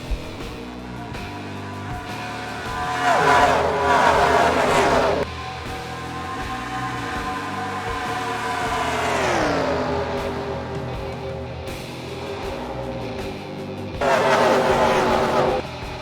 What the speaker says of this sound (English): As we see the rest of the cars racing back to the line.